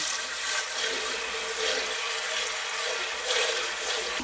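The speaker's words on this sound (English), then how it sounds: "You rinse it off, this top bit." Water from a tap pours steadily over the top part of a blender as it is rinsed, a close, continuous broadband rush with small fluctuations and no voices.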